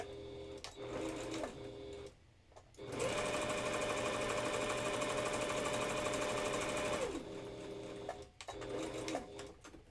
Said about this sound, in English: having a sewing machine makes everything go, like, so much faster.